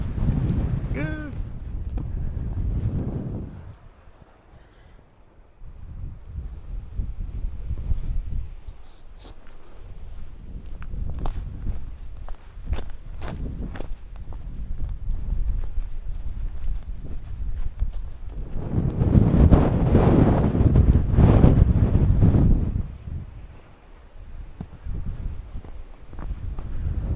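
Strong gusting wind on a mountain hike up Wetherlam near the Coniston copper mine in the Lake District. It roars and buffets the microphone loudly in waves, with one especially fierce blast near the end.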